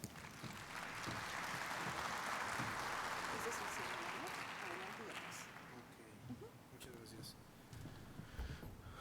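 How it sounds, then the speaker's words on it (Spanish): Audience applause at a medical lecture on peripheral arterial insufficiency, a broad wash of clapping that swells and then thins out into scattered claps, with voices murmuring underneath. "pido un fuerte aplauso"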